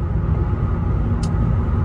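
A stock Infiniti G37 Coupe with a replacement engine, previously said to overheat, cruises along with a steady low engine and road rumble heard from inside the cabin, plus one brief higher whoosh partway through.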